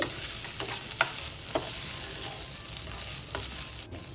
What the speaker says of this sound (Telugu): ఇప్పుడు ఈ అటుకులకి అంతా కూడా బాగా మిక్స్ చేసుకోవాలి